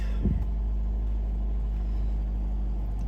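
A Jeep Rubicon engine idling after start-up, a loud steady low rumble close by with a brief rough surge at the very start.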